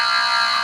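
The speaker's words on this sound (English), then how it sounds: "Buzzers ready?" A game show contestant's buzzer gives one loud, steady electronic buzz with a bright, harmonic-rich tone, held throughout and heard alone without talk.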